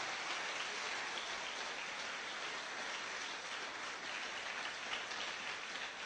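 A church congregation applauding together, a steady dense wash of clapping held at an even level from start to finish with no voices breaking through.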